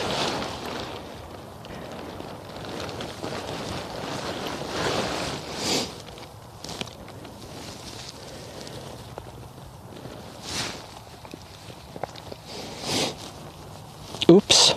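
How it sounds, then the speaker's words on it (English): Wind gusts blow across an open field during kite flying, a rushing breathy roar swelling and fading in several waves, with rustling of fabric and a voice speaking at moments. "Ooh, I got a nice breeze now."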